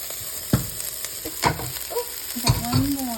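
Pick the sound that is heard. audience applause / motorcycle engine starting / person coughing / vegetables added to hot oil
vegetables added to hot oil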